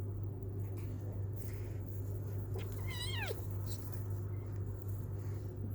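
Kittens lounging in a hammock, one clear rising-and-falling meow heard once against a constant low electrical hum, with no one talking.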